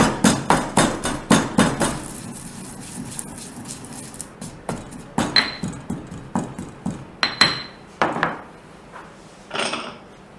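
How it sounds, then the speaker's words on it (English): Poppy seeds crushed by hand for an ancient Greek lamb dish with celery and mushrooms, a run of sharp pounding knocks and clinks in steady rhythm, close and moderately loud, with no talk. "Poppy seeds. And these we crush and will add to our dish later."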